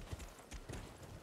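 Horse hooves clopping in the video game Elden Ring, a few quick uneven hoofbeats close by over a steady low game backdrop.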